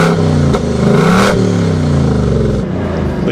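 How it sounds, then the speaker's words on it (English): Ford Mustang with active exhaust revving hard, a loud, close engine note that climbs and settles with some clattering, heard alone without talk. "The thing I love about this Mustang is the active exhaust."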